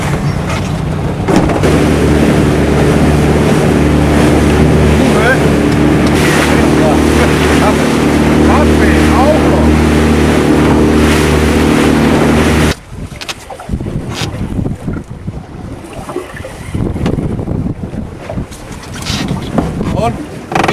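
A fishing boat motors out toward the cod grounds, its engine droning loud and steady for about thirteen seconds. The engine sound then gives way to gusty wind buffeting the microphone and rustling noise.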